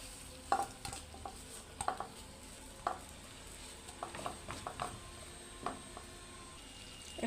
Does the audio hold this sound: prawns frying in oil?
yes